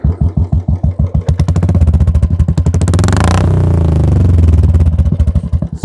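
A modified Royal Enfield Bullet thumps with a loud, choppy exhaust beat at idle, then is revved hard into a sustained roar that rises, holds, and eases back, close to the bike with no talking.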